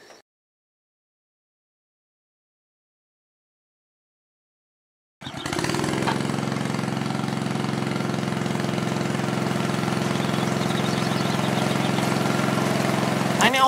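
A homemade wildfire sprinkler system starts up abruptly after several seconds of silence, and then a loud, steady pump-like drone with a hissing spray runs on continuously.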